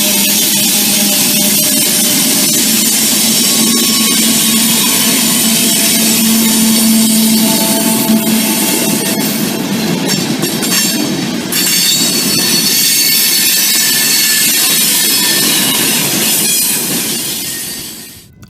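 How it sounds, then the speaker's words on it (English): A loaded rock freight train led by Pacific locomotives rolls loud and close through a railroad interlocking. Wheels squeal steadily and the cars clatter, then the sound fades at the end as the train passes. "we find this loaded rock train from Chico rolling through the former Tower 29 interlock with Apache 7 Pacific leaders"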